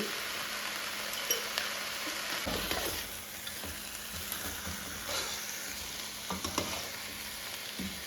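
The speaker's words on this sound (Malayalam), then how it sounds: "ഈ ചിക്കൻ്റെ ഒരു കളറ് മാറുമല്ലോ, അതുവരെ ഒന്നിട്ട് വഴറ്റുക കേട്ടോ." Chicken pieces sauté in a pan for biryani, giving a constant close sizzle broken by the scrape and knock of a spoon stirring the meat every second or so.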